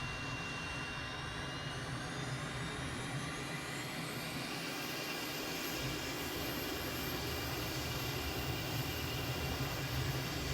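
Simulated M-346 jet in Microsoft Flight Simulator rolling down the runway at full throttle, a steady loud engine roar with a high whine rising midway and then holding.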